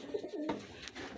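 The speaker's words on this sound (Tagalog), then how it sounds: "Ganado yung mga ibon natin dyan." Racing pigeons cooing close by: a few soft, low, throaty coos in a short sequence over faint background noise, with no talking.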